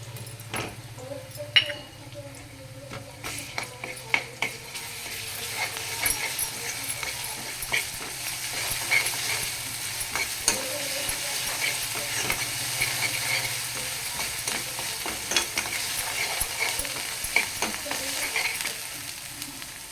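Ginger garlic paste and turmeric frying in a pan for methi dal, a continuous close sizzle with frequent scraping stir strokes and light metal clinks, a voice speaking now and then over it.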